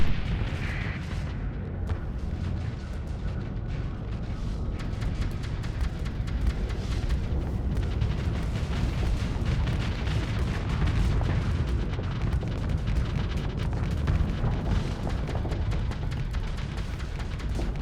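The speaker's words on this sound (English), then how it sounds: "More missiles! Eat all the missiles!" Missiles launching and exploding in the space combat game Starsector, a dense, continuous barrage of booming blasts and rumbling detonations, loud and close with no pause.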